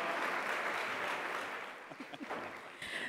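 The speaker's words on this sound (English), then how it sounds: "A round of applause for Fatma." Steady applause from an audience at a film and TV festival awards ceremony that gradually thins out, with a few scattered sounds and a voice starting at the end.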